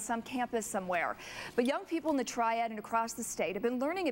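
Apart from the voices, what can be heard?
No everyday noise stands out behind the speech.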